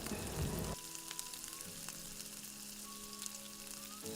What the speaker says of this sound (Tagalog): Huwag po natin kalimutang haluin para ma-mix well